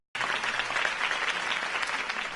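Steady crowd applause fills a Batman video game scene after a Harvey Dent campaign speech, a dense rush of clapping that starts abruptly and holds at an even level.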